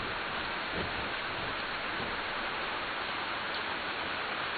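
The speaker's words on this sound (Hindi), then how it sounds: "बारिश ज्यादा है" Heavy rain falls as a dense, unbroken hiss that holds level throughout, with no voices.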